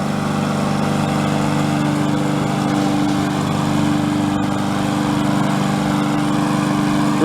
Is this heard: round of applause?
no